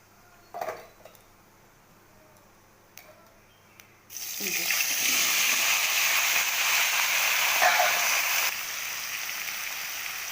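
After a few soft clinks, a loud burst of sizzling starts as chopped bottle gourd hits hot oil, hissing steadily for several seconds before dropping away.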